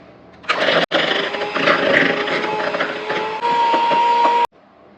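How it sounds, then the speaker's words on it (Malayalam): An electric mixer beats 200 grams of room-temperature butter for vanilla cupcakes, a loud, close motor whir that starts abruptly, stops briefly, runs steadily and then shifts slightly higher in pitch before cutting off. "റൂം ടെമ്പറേച്ചറിലുള്ള ഇരുന്നൂറ് ഗ്രാം ബട്ടർ അത് ഇടാം ഇതൊന്ന് ബീറ്റ് ചെയ്യുക നല്ല സോഫ്റ്റ് ആകുന്ന ഒന്ന് ബീറ്റ് ചെയ്യുക"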